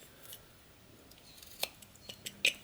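Faint, close knife cuts into a small carved wooden skull, a few sparse crisp scraping snicks spaced unevenly with quiet pauses between.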